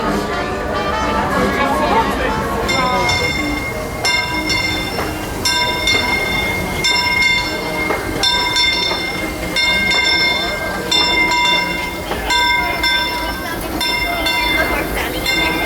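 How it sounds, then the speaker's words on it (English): The Disneyland Railroad train rumbles and clatters as it slows to a stop, with wheel squeal and music playing over the ride. "please remain seated until the train makes a full and complete stop"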